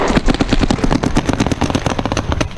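Paintball markers fire in a rapid, uneven volley at the start of a game on an outdoor field, with dense overlapping pops throughout and no talk.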